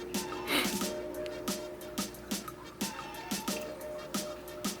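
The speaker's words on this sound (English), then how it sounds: "Don't drip the water in the cup" Water drips into a cup in a steady series of small plinks, about two per second, close and soft, near an aquarium with a faint background hum.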